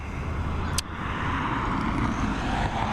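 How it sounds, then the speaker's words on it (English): A KLM Embraer airliner arriving from Amsterdam at Dublin Airport gives a steady, broad jet roar that holds at a constant, fairly loud level throughout. "KL 941 coming in from Amsterdam. This KLM operated Embraer."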